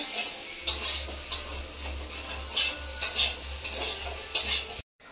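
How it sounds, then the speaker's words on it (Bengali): Soybean chunks fry in a home kitchen pan while a spoon scrapes and stirs them, sharp scraping strokes recurring roughly every half second over a low steady hum, close up and without talk, ending abruptly. "তো এখন আমি সয়াবিন রান্না করবো, তার জন্য সয়াবিনটা ভেজে নিচ্ছি।"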